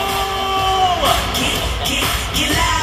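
A crowd at the 2019 Wisconsin Badgers women's hockey national championship celebration cheers and yells loudly throughout, a dense, continuous roar with rising whoops close to the listener.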